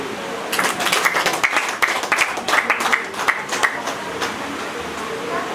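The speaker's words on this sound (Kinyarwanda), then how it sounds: "gasaba abari aha ngaha bambera amashyi y'ishimwe" An audience at a family celebration claps in thanks, with a burst of scattered, overlapping hand claps that swells and then tapers off over several seconds.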